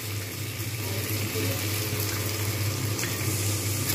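Water poured into a pan of frying spices with turmeric gives a steady broadband sizzle, close and fairly loud, with a low hum beneath and no speech.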